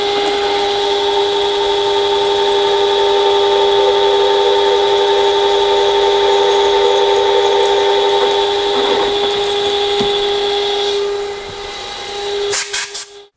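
A drill bores a hole in an old mill on a roller build, giving a loud, steady high whine that runs for about eleven seconds before winding down, followed by a few short clatters at the end.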